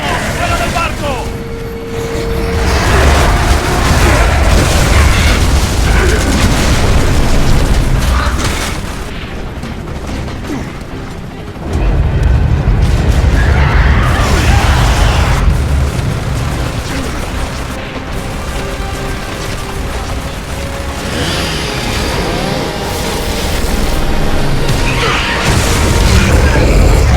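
Loud booming explosions and crashing debris from Gears of War 3 fill a long stretch aboard a ship, heavy and close, rising and falling in waves with brief lulls. Game characters' voices shout through the chaos.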